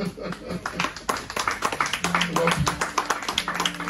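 A church congregation clapping together to acclaim the Lord, with dense, fairly rhythmic handclaps close by and voices mixed in throughout.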